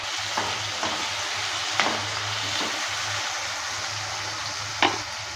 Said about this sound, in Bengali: সবজি থেকে যতক্ষণ কালারটা চেঞ্জ না হয় ততক্ষণ অবধি লো মিডিয়াম আঁচে ভেজে নেব।